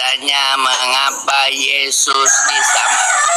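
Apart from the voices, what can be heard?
rooster crowing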